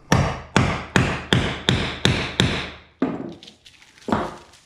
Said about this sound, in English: you just pound it